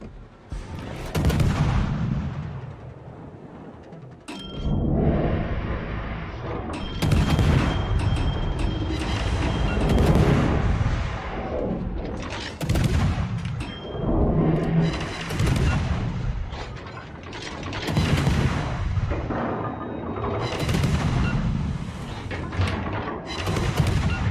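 Repeated heavy naval gun salvos from warships in World of Warships, French ship Kléber, booming close and loud in bursts across the whole stretch with dense rumbling echoes between shots.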